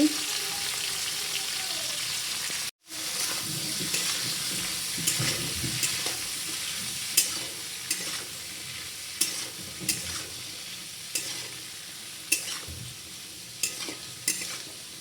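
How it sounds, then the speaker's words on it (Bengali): Flat beans fry in a wok with green chilli and nigella seeds, a steady close sizzle running throughout, punctuated by sharp scrapes and clicks of stirring and one abrupt brief gap near the start. "এবার আমি সিমগুলো কড়াতে দিয়ে দিচ্ছি"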